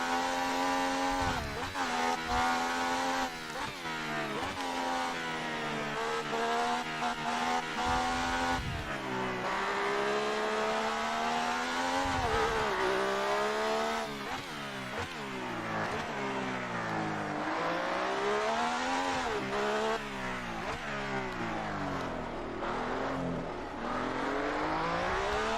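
A Formula 1 race car in the F1 2018 video game screams through gear changes, the high engine note rising and dropping repeatedly as it brakes and accelerates, loud and continuous throughout.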